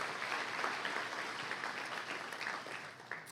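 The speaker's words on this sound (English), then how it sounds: "give them a round of applause" An audience at a mayor's State of the City address claps together, a faint, steady ripple of applause heard from a distance that holds for a few seconds.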